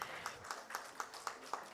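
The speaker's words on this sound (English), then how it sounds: "Ladies and gentlemen, with a round of applause, let's welcome" Faint, sparse clapping as an audience welcomes panelists onto the dais at a conference, with a steady rhythm of about six or seven distinct claps standing out over a quiet murmur of room noise.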